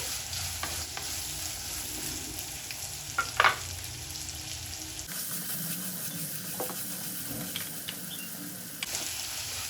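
Small onions sautéing in a pan for a garlic and drumstick-leaf kuzhambu, with a steady soft sizzle and occasional stirring scrapes close by, no voices.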